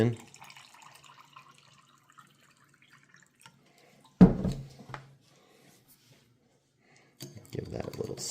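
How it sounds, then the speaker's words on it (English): Water poured into a glass of Canadian MRE military ration drink mix, a short splashing pour in the middle with brief trickles and faint liquid sounds around it, otherwise quiet. "Pour our water in."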